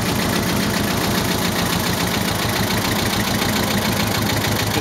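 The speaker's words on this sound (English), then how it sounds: "To shut off the tractor" A Belarus 300 diesel tractor engine idles steadily up close, a loud continuous rhythmic chugging with a knocking pulse and no voices.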